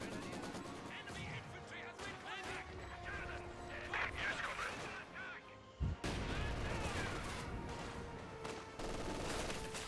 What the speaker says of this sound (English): High explosive rockets.